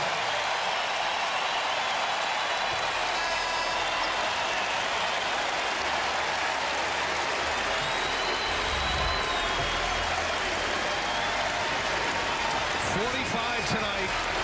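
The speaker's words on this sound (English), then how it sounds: "listen to this crowd give their star a hero's ovation" Arena crowd at a Buffalo vs Marquette NCAA basketball game rises into a sustained ovation for the star player leaving the court: a loud, steady roar of cheering and applause that fills the whole stretch.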